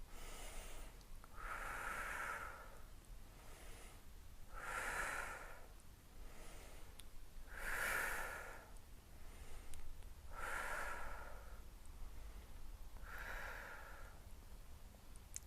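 Five forceful exhales come at a slow, even pace during a breathing exercise, each a breathy rush of air with a short quiet pause between them, close and alone without talk.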